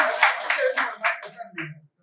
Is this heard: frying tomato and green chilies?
no